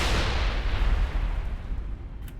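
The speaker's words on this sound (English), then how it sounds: "Can I throw a grenade right there?" A grenade blast in the Mass Effect video game, a loud deep boom with a long rumbling roar that decays over a couple of seconds, heard alone without talk.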